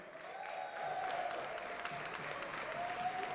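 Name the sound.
audience applause at esports tournament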